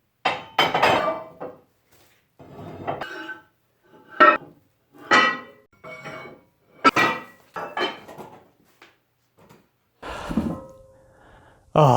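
Metal weights once used to clamp epoxied cutting boards are gathered up in a workshop, clanking and clinking in separate loud bursts with short gaps of quiet between them.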